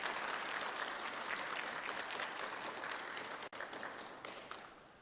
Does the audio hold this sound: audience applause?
yes